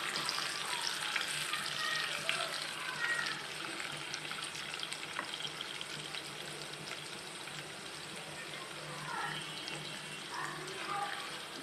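Chopped onions fry in hot oil for a dish of jackfruit seeds with prawns. A dense, continuous crackling sizzle stays loud and close throughout, with no voices over it.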